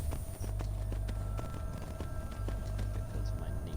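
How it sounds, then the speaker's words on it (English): A horse's hooves clip-clop steadily at a walking pace in the Skyrim video game, a regular clear rhythm over a constant background hum, with no talking. "This is my horse, yeah?"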